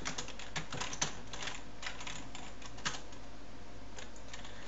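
Close-up typing of C++ code on a computer keyboard, a steady stream of light, irregular key clicks with a few sharper presses, alone without talk.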